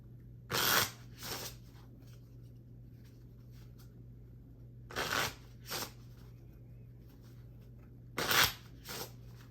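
A deck of playing cards is shuffled in three separate quick bursts of riffling, close to the mic, with quiet pauses and a low steady hum between them.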